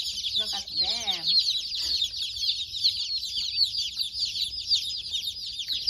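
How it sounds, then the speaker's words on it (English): Baby chicks in their nursery peep constantly in a dense, high chorus, while a chicken gives a short cluck early on. "Oh, so cute, baby chicks."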